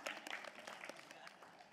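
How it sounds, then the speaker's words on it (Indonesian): Audience applause for the religious teacher Bib Abdullah at an Islamic lecture gathering, a brief, fairly faint burst of scattered clapping with no voices over it. "Tepuk tangan buat guru kita Bib Abdullah."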